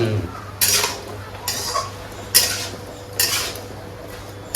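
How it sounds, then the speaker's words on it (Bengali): Paneer curry mixed in a pot, four sharp metallic scrapes and clanks of a spoon against the vessel spaced about a second apart, close and alone. "তাহলে আমি ভালো করে মিলাই একটু সময়ের জন্য ঢেকে দেবো"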